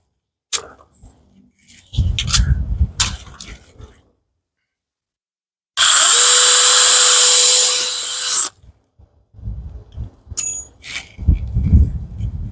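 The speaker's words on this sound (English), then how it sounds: "I drilled a hole at 5/32, and now I have a 1/8 inch drill bit" A hammer drill bores through a window frame in one steady whining burst of nearly three seconds, with quieter handling clatter and rustling before and after.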